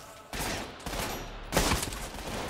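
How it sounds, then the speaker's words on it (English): Gunfire rattles through a shooter game, Trepang2, as light bulbs are shot out: dense, loud bursts of rapid shots with a short gap, then a heavier burst midway, close and with no talking. "Okay, you can shoot out the lights."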